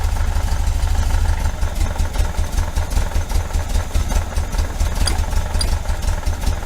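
A 1973 VW Super Beetle engine fitted with Dellorto FRD 34 carburetors idles steadily nearby, a low even rumble with light mechanical clatter and a couple of faint ticks near the end.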